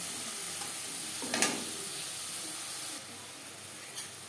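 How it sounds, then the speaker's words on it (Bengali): Prawns frying lightly with salt in a pan give a steady soft sizzle throughout, with a brief louder crackling burst near the start, as for a Bengali echor chingri dish. "স্বাদ মতো লবণ দিয়ে মাছ আমি হালকা করে ভেজে নেব।"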